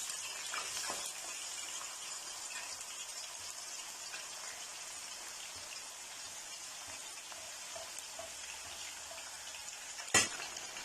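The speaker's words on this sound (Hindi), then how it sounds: "तो अब इसमें जो आलू में नमक लगाया था वो आलू इसमें डाल लेंगे।" Salted potatoes deep fry in a pan of hot oil, a faint, steady hiss and crackle that carries on without a break, with one brief sharp clink near the end.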